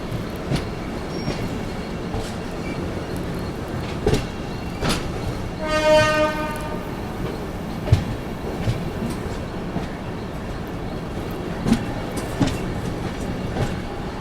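A train rolling along the rail line near Vidyavihar station in Mumbai, heard as a steady rumble with rhythmic clatter of wheels and a horn sounding midway; no speech.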